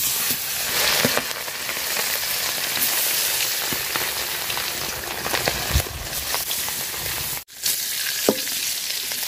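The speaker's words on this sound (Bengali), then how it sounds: "তেল গরম হয়ে গেছে, মাছ দিয়ে দিলাম।" Fish from a pond fries in hot mustard oil in a pot, a loud, dense crackling sizzle with popping spatters, briefly cut off once before resuming.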